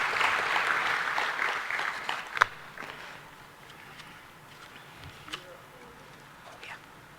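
An audience at a meeting applauds the chairman as he comes up to speak. The clapping is strongest at the start, then fades to scattered claps and quiet murmurs.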